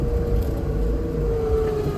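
A two-wheel-drive Infiniti G35 fitted with tire chains plows snow, its engine a steady, close, heavy drone with a faint rising whine throughout and no talk.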